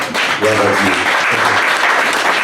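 A wedding congregation at a mixed Franco-Congolese ceremony breaks into loud, close applause, with raised voices cheering over the clapping before it settles into a dense wash of hands.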